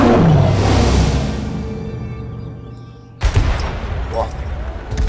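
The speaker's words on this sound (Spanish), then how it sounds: "Eso era un hechizo de golpe de relámpago." A lightning strike spell bursts in the Armello video game, a loud crack and boom that fades over about three seconds, followed by a second sharper burst with rumbling tail.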